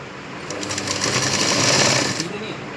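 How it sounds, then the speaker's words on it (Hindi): A sewing machine runs steadily while stitching blouse fabric, its fast needle chatter forming one continuous close-up burst of nearly three seconds. "इस तरीके से हम इस पर सिलाई लगाते जाएंगे।"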